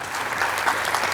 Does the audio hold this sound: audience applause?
yes